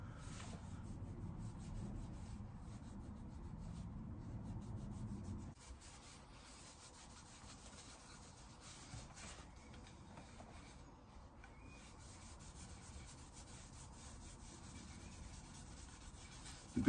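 Soft, continuous rubbing of sandpaper over wooden furniture in a narrowboat bathroom, a dry whispery hiss that is fuller at first and then thins out, close and quiet, without speech.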